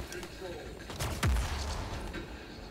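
A single burst of gunfire from a burst-fire weapon in the Splitgate video game booms fairly faintly over a steady background of game noise, with a low thud trailing off after the shots.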